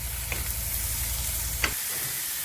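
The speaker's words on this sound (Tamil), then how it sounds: "இப்போ இதெல்லாம் சேர்த்து நம்ம வதக்கி எடுக்கணும்." Spinach sautéing in a pan with turmeric and salt gives a steady sizzle with a couple of sharp spatula scrapes; the frying noise cuts off abruptly near the end, leaving quiet room tone.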